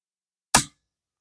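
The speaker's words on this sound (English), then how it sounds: "Let's shoot the board." A single gunshot fired at a target board, one sharp, loud crack with a quick decay, standing alone against silence.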